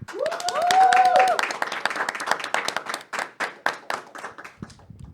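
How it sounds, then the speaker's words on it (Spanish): Studio audience applauds on a Catholic faith talk show, a dense burst of clapping that thins into scattered individual claps, with a voice speaking over the opening moments. "el cual recibimos con un fuerte aplauso"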